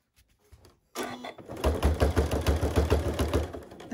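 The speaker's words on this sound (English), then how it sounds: "we are here at the sewing machine, and I am going to start my little box right here on the corner" Sewing machine starting up and stitching a fabric dust cover for a Cricut Maker, a steady fast mechanical whir and rhythmic needle chatter after a quiet start, close and loud.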